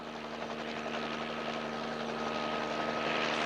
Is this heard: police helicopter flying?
yes